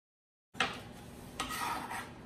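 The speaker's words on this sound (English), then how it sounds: "Using a mandolin to cut my herbs." Fresh herbs (rosemary, thyme and sage) are shaved across a mandolin slicer in a home kitchen, with close, soft scraping strokes and a light knock between passes.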